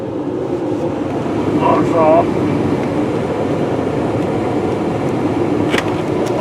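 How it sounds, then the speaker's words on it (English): A 2004 VW Jetta heater blows on defrost, making a steady broadband whoosh of fan air inside the car, loud and constant throughout, with a brief faint squeak and click over it. "I put it on defrost, so I can definitely feel that blowing nice and hot out of the top up there"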